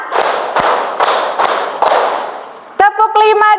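Group clapping in a classroom on a teacher's count, five crisp, evenly spaced hand claps in a steady rhythm, then a voice speaks right after.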